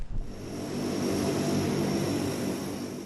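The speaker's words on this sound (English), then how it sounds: "The planes taking off in 2-hourly intervals." Airplanes taking off from an Air Force base in Perth during a search operation: a steady, loud broadband engine roar that holds without letup, with a faint high whine above it and no voices.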